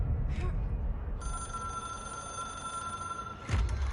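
Telephone ringing in the video game Control, a steady high electronic ring held for a few seconds with faint background noise and brief thumps before and after.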